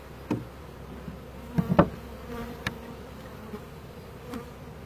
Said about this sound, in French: les abeilles elles vont rentrer directement